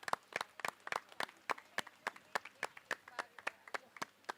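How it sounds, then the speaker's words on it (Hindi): Quick, evenly spaced claps sound at a press conference launching the &TV show Ek Mahanayak Dr BR Ambedkar, crisp and moderately close, with only a sparse handful of hands heard. "उन्हें तो जोरदार तालियों के साथ स्वागत कीजिए इम्तियाज पंजाबी जी का"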